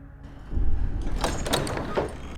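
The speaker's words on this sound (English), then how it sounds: "The doors of the room open" The doors of a room in an abandoned monastery swing open in a horror film scene. A low rumble builds into a sliding, creaking movement, with a few sharper scrapes as the doors part.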